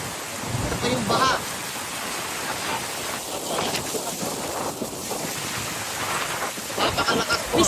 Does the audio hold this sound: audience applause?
no